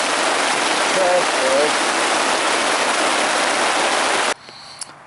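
Heavy rain pours steadily onto a hammock at a stealth campsite, a dense loud hiss that cuts off abruptly near the end, leaving a quiet background; someone speaks a brief word over it.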